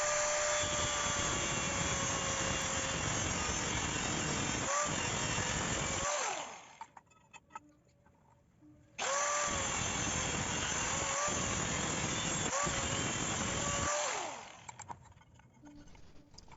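A power cutting tool grinds loudly and continuously through metal pipe pieces for a 775 motor mounting bracket, with whining pitch sweeps. Two long cuts are separated by a quieter pause.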